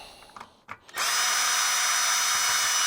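A power drill backs screws out of an old, dead Bosch tankless water heater. A few short knocks and tool handling come first, then the drill whines loud and steady at close range.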